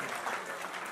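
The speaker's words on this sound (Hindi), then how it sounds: "इनके लिए जोरदार तालियां" An audience applauds at a Hindi award ceremony honoring a President's award recipient, a brief burst of close, dense clapping filling the whole moment.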